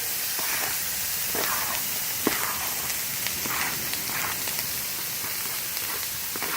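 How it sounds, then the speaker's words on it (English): Bacon sizzling in hot oil in a pan on a camp stove outdoors, a steady crackling hiss with scattered sharp pops throughout, no talking. "And we're going to add our bacon."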